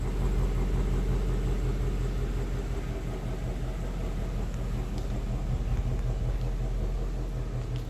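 A car drives on the road with a steady, loud engine rumble and road noise that fills the whole stretch, close by and unbroken, with no voices.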